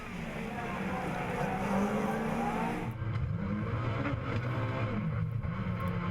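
Onboard a rallycross car racing the Division 4 final at Dreux, a loud, close engine drone with gear-shift dips and tyre rumble continues throughout, and a commentator's voice can be heard underneath.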